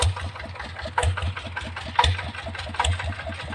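A Yanmar diesel engine with its stock exhaust pipe idles with a steady, soft chugging pulse and a low, mellow exhaust rumble, heard close with no talking.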